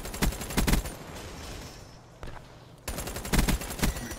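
Gunfire bursts in a first-person shooter video game, rapid automatic volleys at the start and end with a quieter lull between, no clear talk over it.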